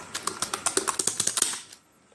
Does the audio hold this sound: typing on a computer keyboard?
yes